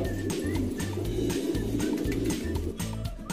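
A pigeon coos in a repeated low, throaty rhythm, with several rolling calls one after another over a busy background of chirping birds.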